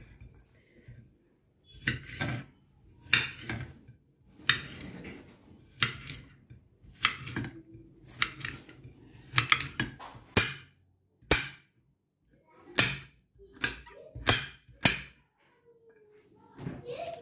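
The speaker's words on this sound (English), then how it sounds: "I'm going to slice with the back." A knife strikes a cutting board in quick, sharp knocks as a cucumber is sliced with the back of the blade, close and crisp, in bursts separated by short pauses.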